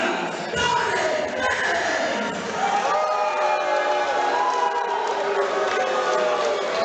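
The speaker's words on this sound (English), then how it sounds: "Some boos coming down from the crowd." A crowd at an amateur MMA fight boos during a fighter's introduction, a sustained, fairly loud wash of jeers and shouts filling the hall.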